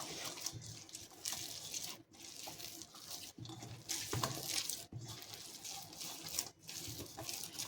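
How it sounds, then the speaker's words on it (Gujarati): A steady stream of water pours into fulwadi batter, running and splashing continuously for several seconds, with brief pauses and soft sloshing. "તો હું અહીંયા થોડું પાણી નાખીને"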